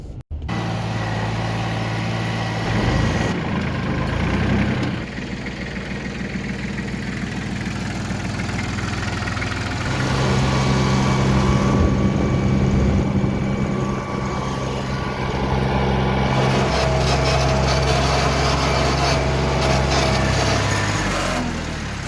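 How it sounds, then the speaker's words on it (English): Farm tractor engine idling and running steadily, a continuous close mechanical drone with a low rumble that shifts slightly in pitch and load, on a rural property while out planting fall food plots. "gotta grab the tractor and head on out"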